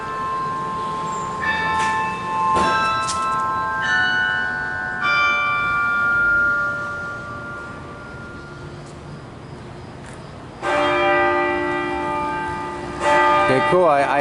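Several church bells of Iglesia del Carmen in Panama City strike at irregular intervals, their resonant tones lingering and layering, with a fresh cluster of peals near the end against faint background ambience.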